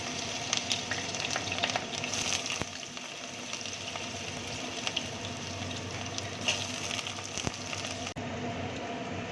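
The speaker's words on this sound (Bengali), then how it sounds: "তার আগে প্রথমে আমি বেগুনগুলোকে ভেজে নিই।" Eggplant pieces frying in oil, a steady quiet sizzle with scattered crackles and pops, continuous and close, ending in a slightly softer hiss.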